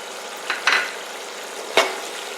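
Vegetable pulao being stirred in a pan with lemon juice, a few short scraping strokes over a steady soft sizzle, close and alone with no voices.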